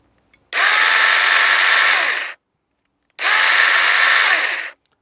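A small battery-operated chainsaw revs up twice with a steady high whine, each burst lasting about two seconds, close and loud with a silent pause between.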